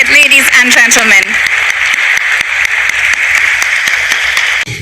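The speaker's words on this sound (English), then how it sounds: "let's have a thunderous round of applause for HDB Financial Services Limited, ladies and gentlemen." An audience at an IPO listing ceremony for HDB Financial Services Limited breaks into loud, sustained applause that starts over an announcer's voice and continues dense and even to the end.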